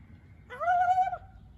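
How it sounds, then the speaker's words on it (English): A single bird call, a drawn-out coo or hoot that rises and holds for about two-thirds of a second, heard outdoors over a low background rumble with no talking. "Birds are up here."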